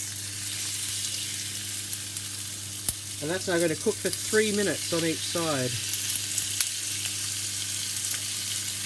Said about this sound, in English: You'll hear a nice sizzle,